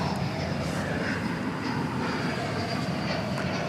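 An MD airliner at DFW Airport at night gives off a faint, steady jet roar with a thin high whine and a few soft swells.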